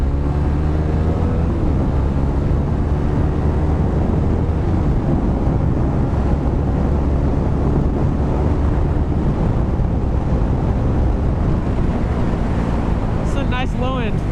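A 2016 KTM 390 Duke single-cylinder motorcycle engine droning loudly and steadily while riding, its pitch sweeping up and down through revs and gear changes, heavy wind buffeting throughout and a rider talking over the noise.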